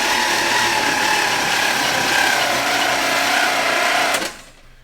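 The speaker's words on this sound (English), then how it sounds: "first thing I'm going to do is crank it over and see if all the valves are going up and down" A junkyard small block V8, locked up and sitting for years, is cranked over by its starter, giving a steady loud mechanical churning that holds for about four seconds and then stops abruptly.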